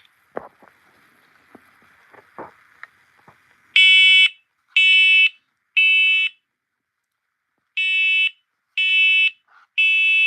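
An SMCO 210V smoke alarm sounds its test beep, loud piercing tonal blasts in groups of three, after some faint handling clicks.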